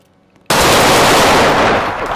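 Sudden burst of machine-gun fire during a gang war, bursting in abruptly after half a second of quiet and continuing as a loud, dense rattle to the end.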